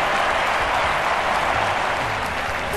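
Steady, dense crowd applause fills a stadium celebrating a British athlete's performance in the London 2012 Olympic video game, a continuous roar of clapping held at even loudness from start to finish.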